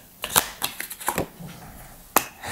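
Tarot cards shuffled and laid out on a table during a reading, giving several sharp, brief card snaps and flicks spaced irregularly, fairly close and quiet, with no voices.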